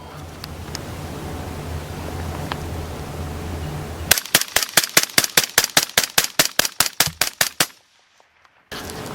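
A 10.3-inch 5.56 rifle fitted with a Resilient Simple Man suppressor, its adjustable bolt carrier set to unsuppressed, fires a fast string of about sixteen evenly spaced, loud, sharp shots, followed by a brief silence.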